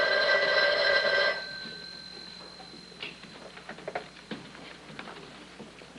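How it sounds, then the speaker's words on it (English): Old-fashioned telephone bell in a radio crime drama, one loud ringing burst that stops abruptly, followed by faint clicks and handling sounds as the receiver is picked up. "I asked her if I could use the phone."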